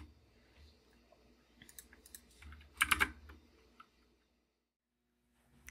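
Keys click on a computer keyboard in a short burst of quick presses, with a few scattered taps before and after. The sound is close and fairly quiet, with silence around it.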